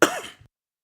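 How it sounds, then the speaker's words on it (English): A single short, close cough from one person, sharp at the start and then quickly fading to silence. "I had a little cough or whatever."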